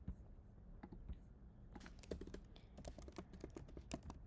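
Steady typing on a computer keyboard while writing JavaScript code, quick irregular key clicks with occasional louder taps, close and fairly quiet.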